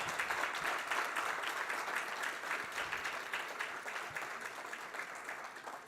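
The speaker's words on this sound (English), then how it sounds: "Can we have a big round of applause for all of them?" An audience at the ICHA 2023 event gives sustained applause, a soft, distant wash of many clapping hands that holds steady and fades slightly toward the end.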